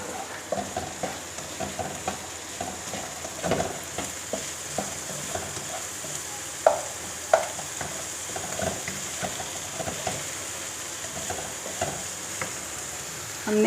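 Green onions stirred into capsicum and carrot frying in a pan for chicken Chinese rice, a steady close sizzle broken by scraping stirs and light clinks, no talking.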